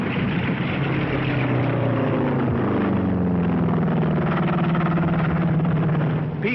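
WWII P-38 fighter aircraft over North Africa give a droning propeller-engine roar whose pitch sweeps slowly downward as they pass, steady and fairly loud on a thin, old recording.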